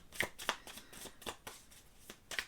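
Tarot cards being shuffled by hand, a quick series of about eight crisp riffling flicks in an uneven rhythm, close and clear with no talking.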